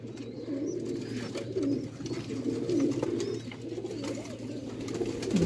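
Rooftop pigeons coo steadily, several overlapping throaty calls repeating close by over a low background hum.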